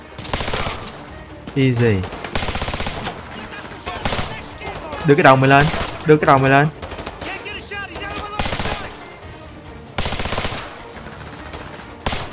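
Full-auto bursts of gunfire in Call of Duty: Modern Warfare 2, rapid crackling volleys repeating across the clip, loud and close, with someone talking over and between the bursts.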